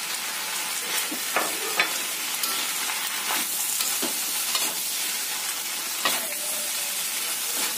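Kwetiau goreng, fried flat rice noodles, sizzles steadily in a hot pan, with intermittent scraping and stirring clatters from the utensil, close and continuous without talk.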